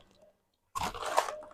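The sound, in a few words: chewing crunchy coconut snack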